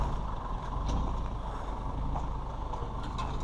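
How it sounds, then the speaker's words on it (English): A skid steer loader is unloaded at a small school athletic field being renovated, its engine rumbling and droning steadily at close range, with faint mechanical clanks and no talking. "Chad looks like he's getting ready to unload the skid steer."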